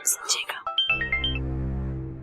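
A short electronic phone tone plays a quick ascending run of beeps, then settles into a sustained ringing chord, following some soft whispery sounds.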